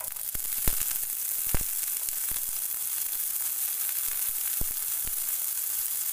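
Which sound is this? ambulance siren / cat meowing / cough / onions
onions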